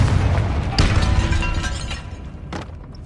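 A Confringo fire spell detonates in a wizarding video game: a loud, close boom with a rumbling low body that decays over a couple of seconds, then a brief second burst.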